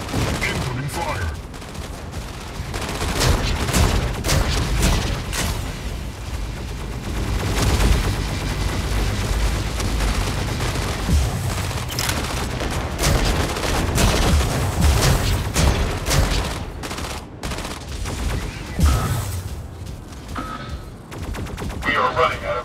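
Video game gunfire roars almost continuously through the whole stretch: dense bursts and rapid automatic volleys with booming impacts, loud and close, while a voice talks over the shooting.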